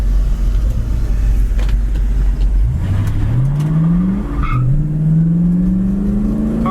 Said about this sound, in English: Squeals the tires in second gear when it shifts.